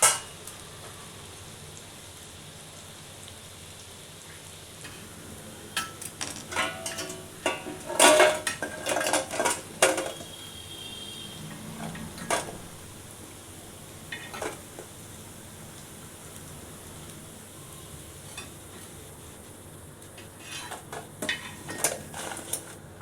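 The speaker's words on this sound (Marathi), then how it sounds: "वड्या तळायला घेऊयात." Steamed spinach vadi pieces fry in hot oil on a heated griddle, a low steady sizzle broken by clusters of loud metal clatters and scrapes from utensils turning them, with no speech.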